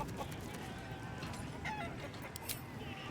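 A chicken clucking during the chicken-chasing race course minigame in Baldur's Gate 3: scattered short clucks over a steady bed of game ambience.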